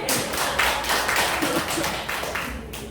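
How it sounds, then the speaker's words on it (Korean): An audience at a humanities literature lecture applauds on request, a burst of dense clapping with audible individual claps, fairly close and loud. "그럼 박수 한번 부탁드립니다."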